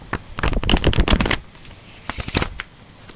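A deck of sturdy, flexible holistic health cards is shuffled up close in two quick bursts of riffling flutter separated by a short pause.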